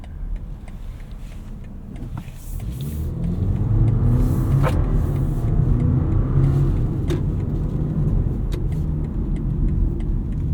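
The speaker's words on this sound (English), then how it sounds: "Not the most inspiring sound from an engine." A 2025 BMW X3 30 xDrive's turbocharged 4-cylinder engine hums under the cabin while driving, swelling into a louder, steady drone after a couple of seconds as it accelerates.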